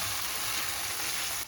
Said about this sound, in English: we're going to pan fry our black beans